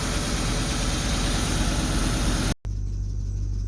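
A 2002 Ford Mustang GT engine idles just after a jump start, a dense, steady, close rumble that drops out for a split second and then carries on at the same level.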